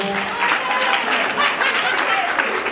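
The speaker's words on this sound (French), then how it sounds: "Merci de bien applaudir pour la fille Mimika Bongo" Audience applause at the Nzonzing Awards ceremony in Hotel Memling, a dense, steady wash of clapping from a crowd lasting throughout, with a voice briefly audible beneath at the start.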